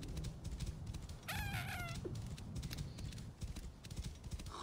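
Rapid horse hoofbeats thud along at a galloping pace in the video game Assassin's Creed: Origins, while a cat's meow briefly cuts through in the middle.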